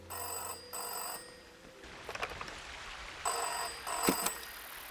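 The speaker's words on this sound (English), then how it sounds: "They should put the voice in the ringing sound" An electronic phone ring in the video game Season: A Letter To The Future sounds in two short bursts, then a pause filled with small clicks and rustles, then another ring, fairly loud and close.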